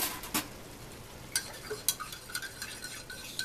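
A utensil stirs a glass of freshly poured tea over cold water, giving light, irregular clinks and taps against the glass over a soft liquid swish, close by and quiet.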